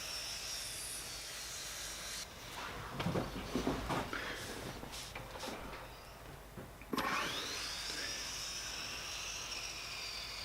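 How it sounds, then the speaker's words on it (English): Power saw cutting an angle into a beech and jarrah wood salt and pepper holder in a workshop, a steady motor whine broken by several bursts of louder cutting in the middle and again near the end, with no talk. "Just cutting the angle on the salt and pepper holder."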